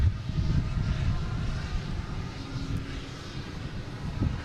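Airbus A320 airliner at Boston Logan, a moderate steady engine rumble and hiss at some distance, fading slightly through the middle before picking up again.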